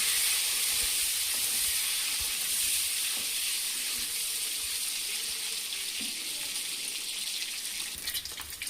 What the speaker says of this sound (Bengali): এবার ডিম দিয়ে দিচ্ছি। ডিমগুলো ভালো করে ভেজে নেব